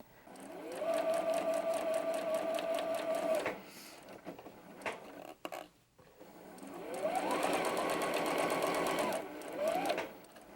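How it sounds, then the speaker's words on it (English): A sewing machine stitches quilt block pieces in two long whirring runs separated by a pause with small handling clicks, then a short final burst, close and clear. "And sewing out to the outside."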